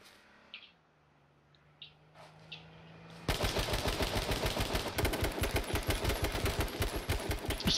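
Gunfire in H1Z1 starts after a quiet stretch of faint ambient chirps and sounds. Then a loud, sustained run of rapid automatic shots plays close by, fast and steady, with no talking.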